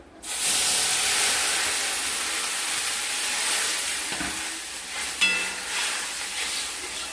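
Water hits hot oil seasoned with cumin and turmeric in a pan, bursting into a loud, steady steamy hiss and sizzle that fades slightly over several seconds, with a faint stir or clink near the end.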